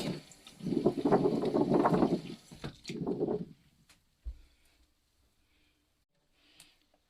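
Water splashes and rushes over a plastic Cricut cutting mat in a sink as soap is rinsed off, loud for about three seconds in two bursts, then a soft thump and near silence.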